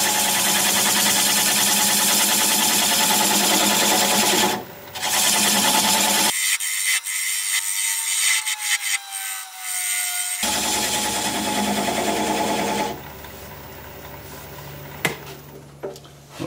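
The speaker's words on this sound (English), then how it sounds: "I'll take this 3/8 inch standard grind bowl gouge and commence to removing that tenon" A wood lathe runs at about 600 rpm while a 3/8 inch standard grind bowl gouge cuts away a tenon, giving a steady motor hum with scraping, chattering tool noise that shifts in several sections.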